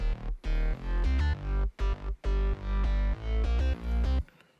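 Three layered synth basses, a sub bass, mid bass and top bass, in an EDM track built in Logic Pro X, pumping loud in choppy sidechained bursts with short gaps between notes.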